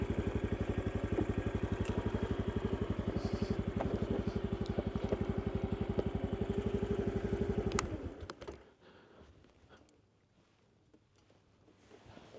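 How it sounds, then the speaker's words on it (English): Motorcycle engine on a dirt trail in Gunnison Gorge, a steady close rumble with rapid even firing pulses that abruptly cuts to near silence partway through, leaving faint wind and rustle. "Engine braking."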